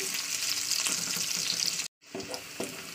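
A whole onion fries in a pan, giving a steady close sizzle with bursts of stirring crackle, a brief dead gap, then the frying resumes at similar loudness.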